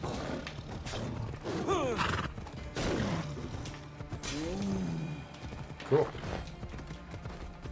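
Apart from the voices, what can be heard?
horse neighing and hooves, from video game Assassin's Creed Odyssey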